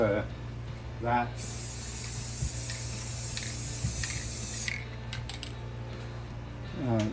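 Aerosol can of ultra matte paint spraying over model railroad track, a steady broad hiss of about three and a half seconds with faint clicks, bracketed by someone talking before and after.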